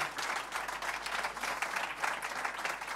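Steady applause from a crowd at an awards ceremony, dense clapping sustained throughout, heard from a distance with no speech over it.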